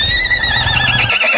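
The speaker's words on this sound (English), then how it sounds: "It's a horse." A loud, close horse neigh with a shrill, quavering whinny sustained for over a second, alone without talk.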